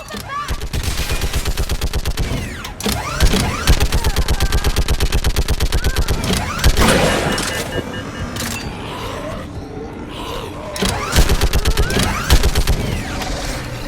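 Rapid automatic gunfire rattles through a battle in Mass Effect 3, a video game: dense, sustained bursts of shots, loud and close, with brief pauses between volleys and voices shouting underneath.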